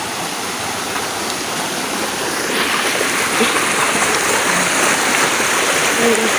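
A river flows steadily nearby, a continuous broadband roar of rushing water that grows slightly louder midway, with no clear voices.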